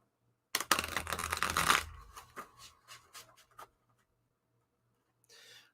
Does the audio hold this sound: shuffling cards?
yes